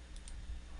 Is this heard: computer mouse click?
yes